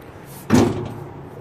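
A hydraulic dump bed on a Coleman HiSun 400cc UTV releases with one sudden loud thunk, then a short dwindling mechanical rumble as it drops, close up and clear.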